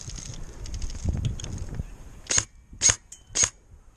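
Three sharp, evenly spaced airsoft gun shots at an outdoor airsoft game weekender, close and loud, following a few seconds of rustling and faint movement.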